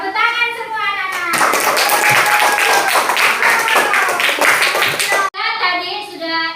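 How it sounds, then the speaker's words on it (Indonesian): A classroom of children claps together in a fast, loud burst of many hands lasting several seconds, with a voice speaking just before and after. "Tepuk tangan semua anak-anak."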